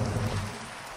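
Steady rain hisses as a broad, even wash of sound in the video game Minecraft, heard briefly with no talking over it.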